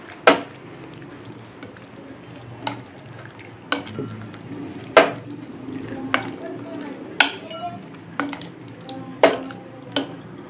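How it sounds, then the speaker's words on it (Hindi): Marinade being mixed by hand into 800 g of beef for creamy malai tikka boti: wet squelching and stirring under a low murmur, punctuated by sharp clinks and taps against the bowl at irregular intervals. "इसको नाजरीन हम अच्छे तरीके से मिक्स करेंगे"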